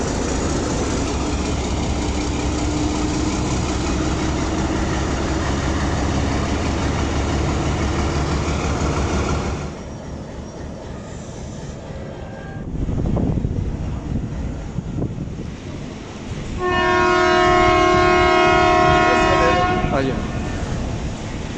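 A Hitachi HBU20 diesel locomotive, number 8064, hums and rumbles at Rawalpindi railway station while coupled to the Kohat Express, its steady engine drone close by, followed by a long multi-tone horn blast near the end.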